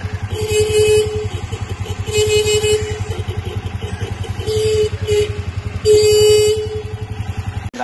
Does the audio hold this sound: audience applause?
no